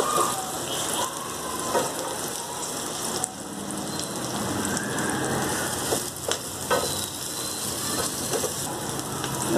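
Onion fries in a pan for a clam masala curry, giving a continuous close sizzle and crackle with occasional clicks and scrapes of stirring throughout.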